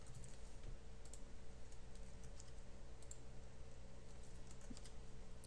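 Quiet, steady typing on a computer keyboard while entering a chat command on a Minecraft Bukkit server, keys clicking in a rapid, even stream for several seconds with no voice.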